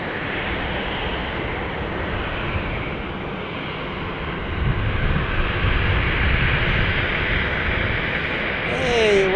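A jet airplane roars at Albuquerque Sunport airport, a broad steady rumbling engine noise that swells slightly midway, heard from a distance outdoors, with a brief faint voice near the end.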